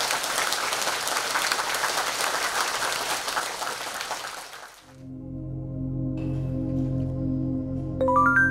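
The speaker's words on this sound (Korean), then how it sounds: "우리 큰 함성과 박수 한 부탁합니다" A dense burst of audience applause and cheering for monks at a Korean Buddhist retreat fills the first half, loud and continuous, then gives way to sustained tonal music.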